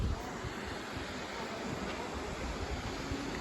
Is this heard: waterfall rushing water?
yes